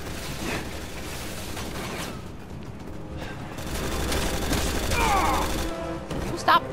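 Enemy gunfire in Resident Evil 6 rattles on continuously and loud amid clanking mechanical game noise, close and dense, with a few sharper hits toward the end.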